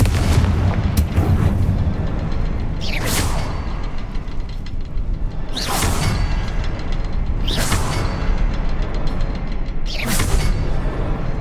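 Confringo fire spell explosions in the Hogwarts Legacy video game, four loud booming blasts spaced a couple of seconds apart over a constant dense rumble of game sound, with no talking.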